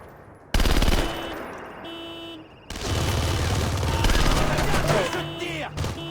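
Sustained automatic gunfire erupts in the action video game Splinter Cell Conviction, loud bursts starting abruptly, pausing briefly, then continuing steadily, with game voices calling out amid the shooting.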